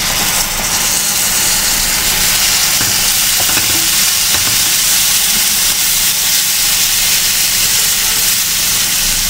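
Spices for paneer bhurji sizzling and frying in a pan over low flame while being stirred, a dense continuous close hiss that stays loud throughout with no talking.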